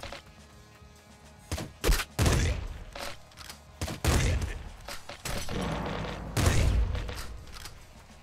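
Rapid gunfire bursts from enemies in the top-down roguelike shooter Nuclear Throne, a string of sharp loud cracks and thumps in uneven clusters over a busy game soundtrack, with no talk.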